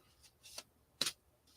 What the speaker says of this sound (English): So, Michael, 9 times we're going to shuffle.